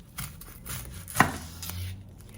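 A knife chops an onion on a cutting board, giving a few sparse, close cuts with one sharp thwack standing out among soft taps.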